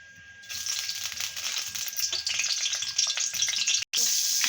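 Butter and a little oil sizzling in a kadhai, a crackling fry that starts quietly then swells into a dense, steady sizzle with a brief cutout near the end.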